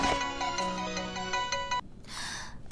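A mobile phone rings with an incoming call, a bright melodic ringtone playing loudly for nearly two seconds before cutting off, followed by a brief breathy rustle.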